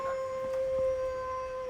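A dog named Bedivere howls faintly in the background, a single drawn-out, wavering call over a steady electronic hum.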